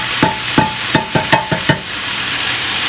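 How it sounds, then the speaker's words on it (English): Chopped Italian tomato pulp going into a pan of wine while cooking a pasta dish, heard as a run of about seven sharp scraping, stirring knocks over a steady low sizzle, close and fairly loud. "now we're going to put in our tomato pulp"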